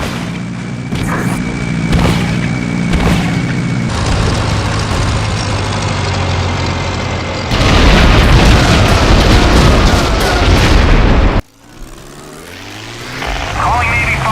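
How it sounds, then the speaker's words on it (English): Bombs detonating after a drop over Iwo Jima in the World War II flight game Heroes of the Pacific, a loud sustained roar of blasts and rumbling debris mixed with propeller aircraft engine drone, cutting off sharply near the end before engine noise returns. "Bombs away!"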